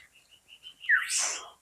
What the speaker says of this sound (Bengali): পাখি তো অনেক সুন্দর পাখি।